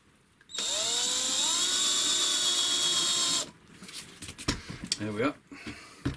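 A small drill bores into a Corian pen blank, a high whining motor tone that holds steady for about three seconds and then stops, followed by someone speaking.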